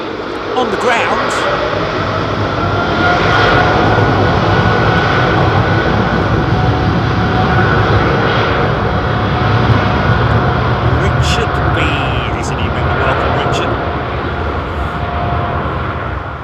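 Airliner, a Boeing 777, rotating on takeoff at London Heathrow, a loud steady jet engine roar filling the scene throughout with broadband rumble, heard alone without voices.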